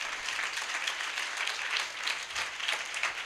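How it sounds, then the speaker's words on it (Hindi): A congregation at a church sermon claps loudly and steadily for God, a full, even wash of many hands with no talk over it. "आए खुदा के लिए जोरदार तालियां बजाते हैं"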